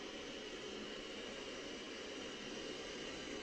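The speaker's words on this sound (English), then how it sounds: "Let's get some white noise in here." Steady broadband hiss of white noise from a sleep aid sound machine, constant and even throughout with no breaks or changes.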